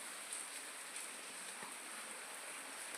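Steady heavy rain pours down in Anjiya Khadi village, a dense, even hiss of drops on surfaces with no pauses, heard alone at a moderate level.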